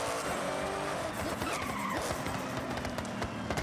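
A sports car engine roars with tire squeal and skidding in the racing game Forza Horizon, a loud continuous rev with shifting pitch, close and dominant, no talking.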